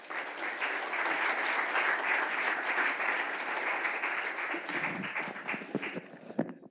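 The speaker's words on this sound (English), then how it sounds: "Let's have one last round of applause for all of our presenters" A final round of applause from an audience at a presentation event, steady and full for about six seconds before thinning into a few scattered claps at the end.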